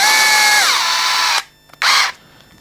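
A power tool whirs loudly while tightening parts on a carbon-chassis Hobao Hyper VT RC car, running steadily and dropping in pitch, cutting out, then giving one shorter burst after a brief pause.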